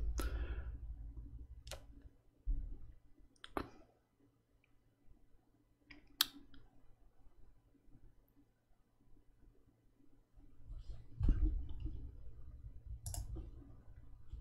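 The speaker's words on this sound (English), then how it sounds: "if you hear like some incessant tapping, that's my keyboard" Sparse, quiet clicks of a computer keyboard in a home streaming room, isolated taps and short bursts spaced irregularly over a low background hum, with some soft handling noises.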